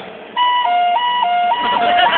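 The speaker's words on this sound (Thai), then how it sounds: "โอ้โหอันนี้รถพยาบาล" Ambulance siren wailing in a steady two-tone hi-lo pattern, loud and close, alternating pitch about every third of a second after a sudden start.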